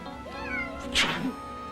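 A single cat meow, fairly close, with a brief rising-falling tone that lasts about a second against a quiet background.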